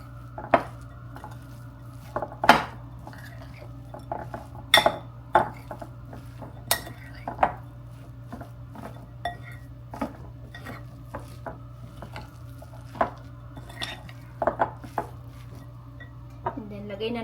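Crab stuffing mixed in a bowl, with repeated spoon and utensil clinks and knocks against the bowl at an irregular pace over a steady low hum, close by.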